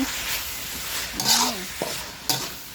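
Duck noodles are stir-fried in a pan, with a steady close sizzle and scraping stirs from a utensil, and a voice speaks briefly over the cooking.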